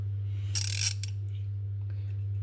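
A ratchet screwdriver clicks in one short, quick burst followed by a single brief click, close and crisp against a quiet background.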